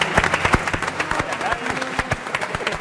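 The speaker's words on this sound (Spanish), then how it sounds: "Mira, la gente aplaude." Audience applause at a casual outdoor food tasting of game meat, a rapid patter of many hands clapping steadily over background chatter and voices.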